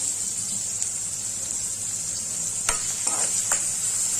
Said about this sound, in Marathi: थोडंसं तेल घेऊन कांदा चांगलं परतून घेऊया